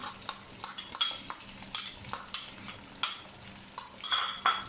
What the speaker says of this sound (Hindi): अब इसमें अदरक लहसुन का पेस्ट डाल देते हैं।